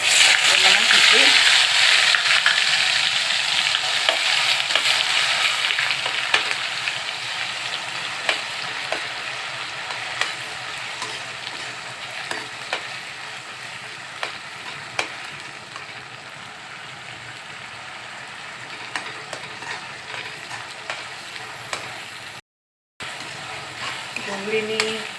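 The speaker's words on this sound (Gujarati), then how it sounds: "જ્યાં સુધી સહેજ રતાશ પડતી ના થાય, સારી રીતે ડુંગળી શેકાઈ જાય" Onion, chili, ginger and garlic masala gravy with asafoetida fries over low heat for stuffed okra, a steady hissing sizzle with occasional spatula clicks and scrapes, a voice talking over parts of it.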